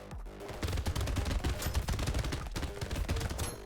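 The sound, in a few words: minigun firing in the video game Brotato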